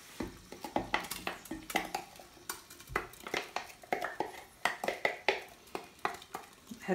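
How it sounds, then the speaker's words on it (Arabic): A utensil stirs onions frying in a clay pot for chorba frik, making rhythmic, close scraping clacks against the pot over a faint sizzle, with no talking. "نحركوه شويه ونزيدو نخلوه يتقلى"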